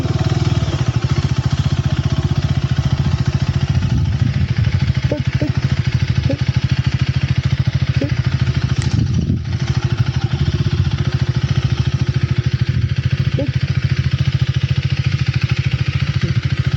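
A KTM Duke 390 motorcycle engine runs loud and close throughout, a steady rough low thrum with a hammering, clattering edge, a few faint clicks and knocks over the top and no talking.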